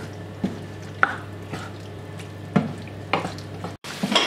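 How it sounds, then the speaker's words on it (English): Chicken wrap filling with chunky tomatoes simmers quietly in a pan, a soft steady bubbling broken by a few sharp spoon taps and scrapes. "I'm probably going to let it simmer for around 5 to 10 minutes so it's not sour"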